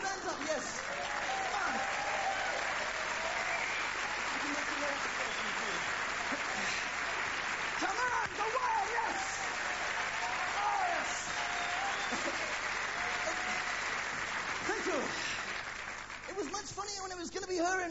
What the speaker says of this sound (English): Ladies and gentlemen, massive applause